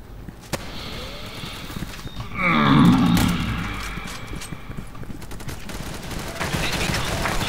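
Gunfire in the online shooter Special Force 2 during a team deathmatch, a loud burst of rapid shots swelling around the middle, with scattered quieter game sounds and effects before and after.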